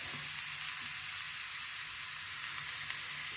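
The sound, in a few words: tomato and ridge gourd being dry-roasted in a pan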